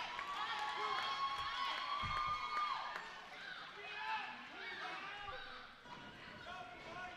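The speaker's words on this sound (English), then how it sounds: "Listen to the crowd." Crowd at an independent wrestling show cheering and shouting in an arena as a wrestler dives to the floor, a steady roar of voices with scattered whoops and thumps, commentary voices over it.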